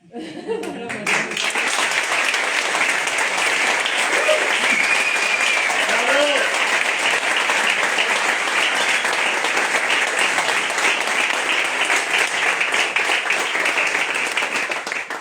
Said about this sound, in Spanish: Quiero un aplauso inmenso para nuestro patrimonio inmaterial.